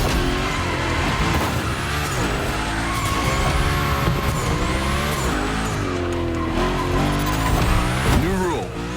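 A car spinning donuts in the video game The Crew Motorfest, engine revving hard under continuous squealing tires, loud and close, with a voice talking over it.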